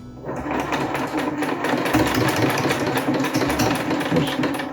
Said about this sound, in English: Sewing machine doesn't like to do this.